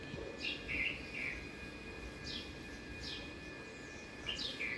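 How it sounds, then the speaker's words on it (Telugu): House sparrows chirp outdoors on a cool early morning, with several short bright calls scattered at irregular intervals over a soft background hum, no talk. "ఇక్కడ ఉన్నాయి చూడండి ఊర పిచ్చుకలు చిట్టి పక్షులు"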